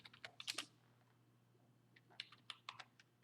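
Typing a short command on a computer keyboard in a Linux shell: two quick clusters of soft key clicks, close and quiet, separated by a brief pause.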